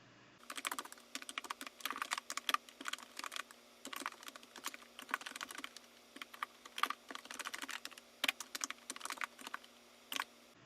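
Code being typed on a computer keyboard, bursts of quick close key clicks with brief pauses, quiet and alone without voices.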